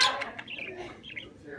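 A small pet parakeet chirps in short, bright tweets spread across a couple of seconds, fairly close and unaccompanied by talk.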